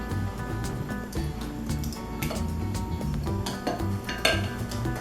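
A spoon stirs crushed tomatoes in a cooking pot, giving a continuous scraping and clinking of utensil against metal with dense kitchen background noise.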